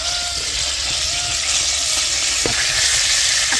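Curry leaves sizzle and crackle in hot oil in a kadhai, a steady loud frying hiss filling the whole stretch with a few sharper pops, no talking.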